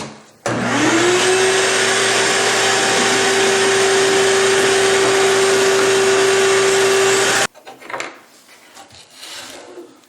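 A shop vacuum cleaner runs loud and steady for about seven seconds, sucking up wood dust from a CNC-carved cribbage board still held in clamps, then cuts off abruptly, leaving faint handling noises.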